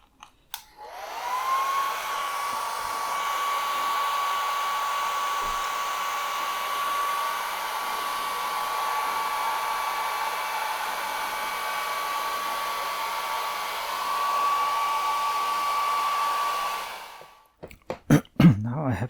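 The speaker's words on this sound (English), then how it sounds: "I will try to use a hairdryer." A hair dryer starts with a click and whirs steadily at close range for about fifteen seconds, drying a watercolour painting, then shuts off.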